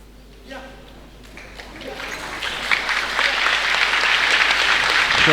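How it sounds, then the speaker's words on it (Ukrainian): An audience at a combat sports fight in Kremenchuk welcomes both fighters with applause. The clapping swells from scattered claps into a dense, steady roar, and a commentator talks over its start. "Також оплесками вітають"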